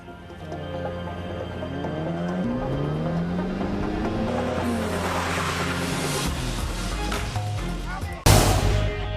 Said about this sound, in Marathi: एलिस्टरनं वेगात आपली गाडी बरोबर 2 गाड्यांमध्ये पार्कही केली।